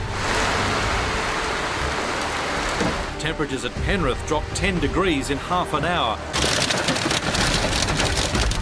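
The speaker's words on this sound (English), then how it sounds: "another afternoon blast of pelting rain" Heavy pelting rain in a Sydney afternoon storm, a dense steady roar of downpour battering surfaces throughout, with someone speaking over it in the middle stretch.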